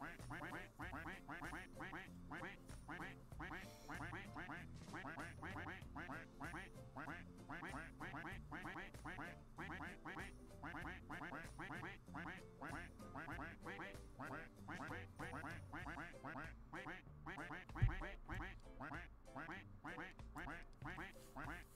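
Ducks in the Roblox game Duck Army quack constantly in a dense, rapid stream of overlapping calls, steady and fairly loud throughout with no pauses.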